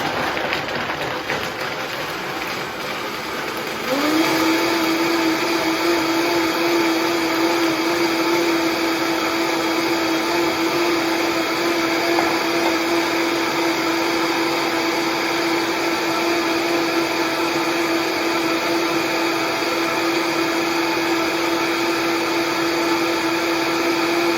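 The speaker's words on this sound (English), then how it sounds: "I'm going to start the blender on low, and then I'll work its way to high until it's fully blended." A blender whirs through almonds and water while making almond milk, starting lower and then jumping to a loud, steady, high-speed whine that holds for a long stretch, no talk.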